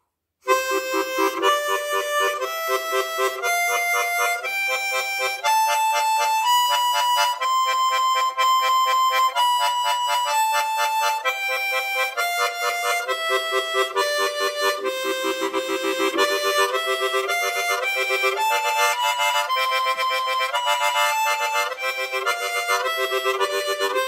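A harmonica plays a steady run of tongue-articulated eighth notes, each one sharply attacked in an even pulse as the melody moves up and down, loud and close with no talking.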